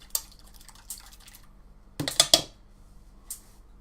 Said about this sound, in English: When I'm beating up my eggs, I just like to use a fork. You want a nice whisking motion of that.